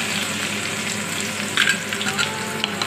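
Garlic frying in hot oil for a Nepali tomato pickle, a steady close sizzle with occasional sharper crackles and a brief stirring scrape, loud and continuous with no one speaking.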